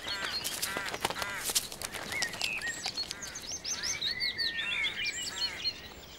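Crows calling while foraging beneath trees, several harsh caws mixed with other chirping bird calls, fairly close and busy, repeated throughout with a lively outdoor backdrop.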